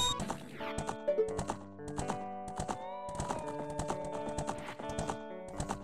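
Epona, Link's horse in Zelda: Ocarina of Time, trots with steady clip-clopping hooves layered over bright game music, a close, rhythmic patter running throughout.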